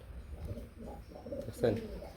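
A pigeon coos softly, a few low throaty calls nearby at a market selling pigeons, quiet and brief with background murmur and a person talking faintly.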